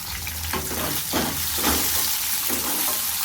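Onions fry in a pan for chutney, giving a loud, close, steady sizzle with repeated stirring and scraping strokes throughout.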